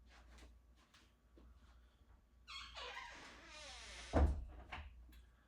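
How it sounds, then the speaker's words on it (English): Doors being shut in a home: a creak or slide of movement followed by one solid thud of a door closing nearby, with quiet room tone around it. "I should close that door actually"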